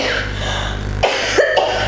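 A couple of short coughs close by, over a constant low humming background.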